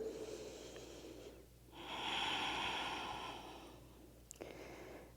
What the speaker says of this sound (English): Take a couple deep breaths into the belly.